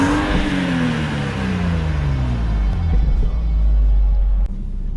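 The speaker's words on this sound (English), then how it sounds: "So this is the 3-litre turbo rear-wheel drive 8-speed auto model of the BMW 2 Series." Turbocharged 3-litre six-cylinder engine of a 2014 BMW M235i rear-wheel-drive coupe with an 8-speed automatic, revving loudly and steadily with a deep rumbling tone, heard alone and up close.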